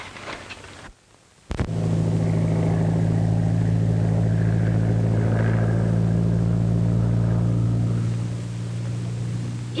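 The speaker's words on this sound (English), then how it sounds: "It's a plane." A steady droning airplane engine hum from the 1939 film Danger Flight starts abruptly after a brief quiet and holds continuously, loud and close, fading slightly at the end.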